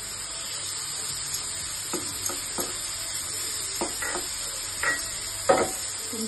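Chicken sizzling in butter in a pan, a steady soft fry hiss broken by several brisk stirring scrapes, close and alone.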